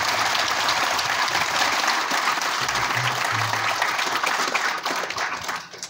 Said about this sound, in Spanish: Vamos a darle un fuerte aplauso al Padre Antonio Blanco.